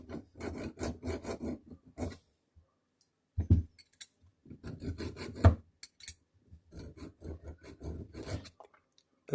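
Medium file rasping on the hammer of a Pietta 1861 Navy revolver: bursts of quick, close strokes in three runs separated by short pauses, fairly loud and dry, with no talking.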